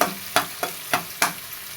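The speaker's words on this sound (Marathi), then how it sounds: "चांगलं खरपूस लाल होईपर्यंत कांदा परतून घ्यायचं मस्त व्यवस्थित" Chopped onion frying in a pan until browned for a young jackfruit curry, a steady soft sizzle broken by four regular scraping stirs of a spatula, close and fairly quiet.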